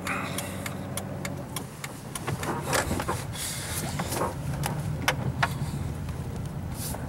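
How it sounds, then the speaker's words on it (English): A car passes by near a Firestone shop while a vehicle waits to pull in, producing a steady engine rumble under repeated clicking ticks like a turn signal, with no talk. "pulling in the Firestone here as soon as this car passes by"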